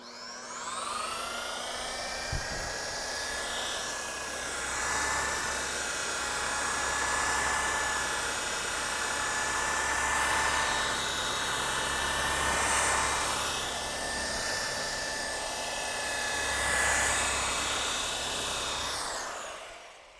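Car paint buffer polishing a fresh paint job at about 1,800 RPM: a loud, continuous motor whine with shifting tones that swells and eases as the pad moves over the panel, running nonstop for about twenty seconds before spinning down.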